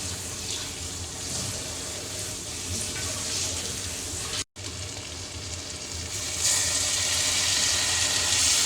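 Continuous splashing rush of boiled hot water being poured into a pan of vegetable rice, briefly cutting out midway, then returning brighter and hissier toward the end.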